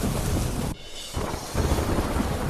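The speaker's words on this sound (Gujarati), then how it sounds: "ધોધમાર વરસાદ" Heavy monsoon downpour over villages in Gujarat, a steady dense roar of rain with a deep rumble of thunder, briefly dropping away mid-clip before the loud wash of rain returns.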